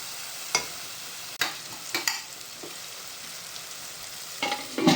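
Detki fish mince cooks in a pan with a soft continuous sizzle, broken by a few sharp clacks of a stirring spoon against the pan.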